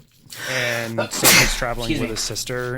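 A single sharp sneeze bursts out in the middle of a person's steady conversational speech, loud and close, with talking continuing right before and after it.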